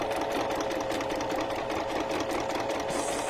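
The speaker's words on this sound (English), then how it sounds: "I'm just sewing right on that edge" A sewing machine stitches along the edge of a junk journal cover made from rescued trash, a steady, close mechanical whirr running without a break.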